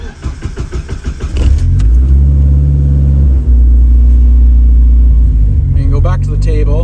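A car engine revs loudly during electronic boost control tuning, a sharp rising rev giving way to a steady, strong sustained roar that shifts pitch partway through, close and continuous.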